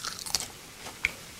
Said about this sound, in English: Yep, I'm going to chew it right on camera.